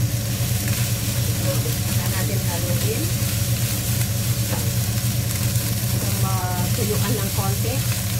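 Fried rice with mixed vegetables being stirred in a frying pan, a steady sizzle running under a low hum and occasional scraping, with a voice speaking briefly over it.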